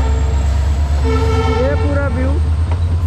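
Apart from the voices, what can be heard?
two trains passing on a railway track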